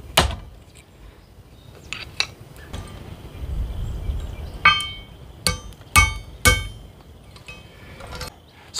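Hammer tapping a drilled rivet through on a Conibear trap trigger over a small anvil: a series of sharp metallic taps, irregular and close, several clustered toward the end.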